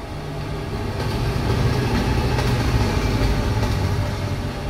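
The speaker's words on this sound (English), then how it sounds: "Train." A train passing close by, a steady heavy low rumble and rolling clatter that swells and holds for several seconds with no talk over it.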